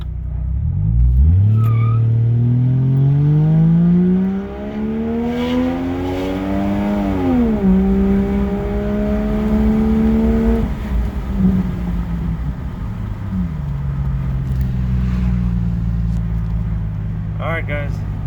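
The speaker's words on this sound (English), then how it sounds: "let me see if I can go do a 0 to 60 real quick" A tuned GMC Envoy with an electric fan kit launches hard from a stoplight to 60, its engine note climbing loudly through several gear shifts, heard from inside the cabin, ending with a brief voice.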